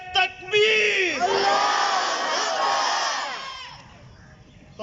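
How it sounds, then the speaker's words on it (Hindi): A crowd of students at a government high school Milad gathering roars the Nara-e-Takbeer slogan in unison, a loud, sustained massed shout that swells after a brief lead-in and then slowly fades. "तो पूरी आवाज़ से आपने नारा लगाना है, नारा तकबीर।"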